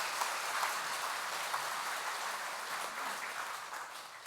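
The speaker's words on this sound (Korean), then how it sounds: "여러분 박수를 한번 치셔야 되겠습니다" A church congregation applauds during a Catholic Mass for Trinity Sunday, a steady, even wash of many hands clapping that holds for the whole clip with no voices over it.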